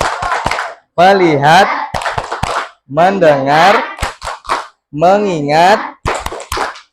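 A fourth-grade class claps in short rhythmic bursts of a few quick claps, alternating with loud chanted words in unison in a classroom.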